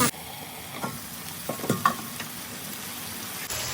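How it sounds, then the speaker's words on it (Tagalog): Chicken sizzles steadily in a pan while being cooked for chicken tinola, with a soft continuous frying hiss broken by a few light clinks and stirring scrapes. "Napiprito na yung chicken."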